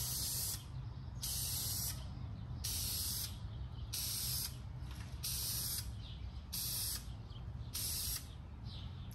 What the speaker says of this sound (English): Do your test spray.